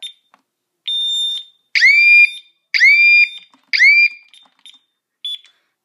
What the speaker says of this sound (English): This is a fire panic.